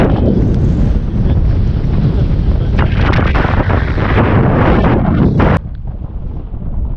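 Strong wind buffets the microphone on an exposed mountain hike in the East Cairngorms, a loud continuous roar with gusting surges that drops abruptly to a quieter rush near the end.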